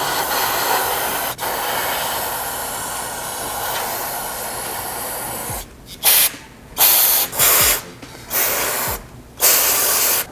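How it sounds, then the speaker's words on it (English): Brake cleaner sprayed onto an STI AVCS solenoid housing, several loud hissing aerosol bursts of a second or so each with short gaps, following a quieter stretch of steady background hiss. "Now with brake cleaner, I'm gonna go ahead and spray down the solenoid housing."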